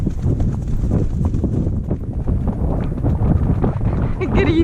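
Horse hooves clip-clop steadily on a trail ride, a rapid, close rhythm of thuds under near-constant conversation between riders, with some wind buffeting the microphone.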